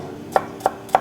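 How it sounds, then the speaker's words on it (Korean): Knife thinly slicing carrot on a cutting board, three crisp, evenly spaced chops close up over a quiet background. "당근도 나오면은 얇게 썰어 주세요"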